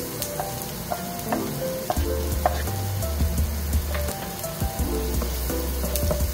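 Garlic fries in a pan, crackling and sizzling loudly and steadily, with occasional louder pops and low rumbling bursts underneath.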